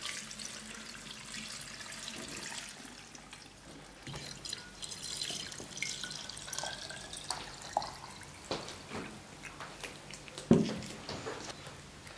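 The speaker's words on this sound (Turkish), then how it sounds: "Şimdi suyumuzu ekliyoruz." Water poured into a container of vegetables and salt to make homemade Turkish şalgam, a steady soft splashing and trickling stream running for several seconds, fairly close, with a brief louder splash near the end.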